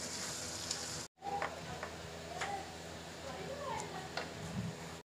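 Mixed vegetables frying over a high flame, a steady close sizzle with scattered light ticks and stirring scrapes, a brief cut partway through, and talk running over it.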